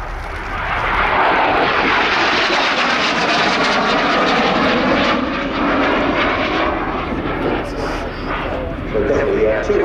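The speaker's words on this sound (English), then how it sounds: "So the McDonnell Douglas AV-8B Harrier 2 was a joint project between the US and the UK to develop a new generation of Harrier" A McDonnell Douglas AV-8B Harrier II jet performs a flying display at an air show, its engine a loud, continuous broadband roar that holds steady for the whole stretch.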